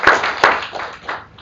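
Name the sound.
applause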